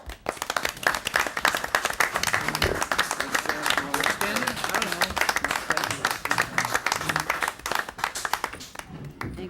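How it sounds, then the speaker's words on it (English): City staff at a council meeting receive a standing round of applause, many hands clapping in a steady dense patter for nearly ten seconds before fading out at the end. "I think you deserve a round of applause"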